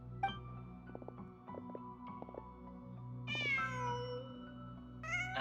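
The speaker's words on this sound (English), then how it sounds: "I think it's a cat." Several short meows from a cat in Genshin Impact ring out over quiet game music and ambience, the last two rising and clear.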